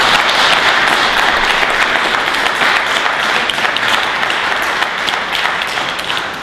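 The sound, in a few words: audience applause for a panel of artists and novelists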